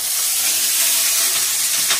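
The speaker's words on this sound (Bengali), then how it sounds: "ইলিশ মাছের তেল আর কাঁটাগুলোকে ভেজে নিচ্ছি।" Hilsa fish fat and bones fry in hot oil with a loud, constant sizzle and hiss close by, with no voices.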